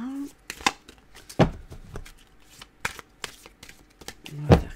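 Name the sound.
shuffling a deck of tarot cards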